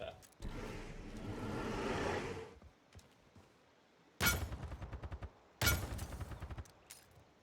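Gunshots in the video game Paladins, bursts of rapid, loud firing in two sharp volleys, with someone talking in between.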